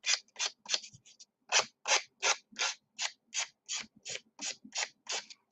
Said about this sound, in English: Just file down.